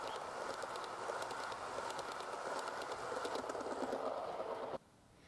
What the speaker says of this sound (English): It's my train set, so I'll run it.